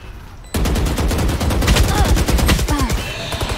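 Rapid automatic gunfire in the video game Valorant, a loud dense burst of shots starting abruptly and rattling on for about three seconds, with faint voices beneath.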